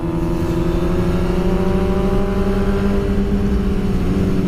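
A Honda CBR 1000RR FireBlade sport motorcycle being ridden at around 106 km/h gives a loud, steady engine drone with a slowly shifting pitch, mixed with continuous wind rush.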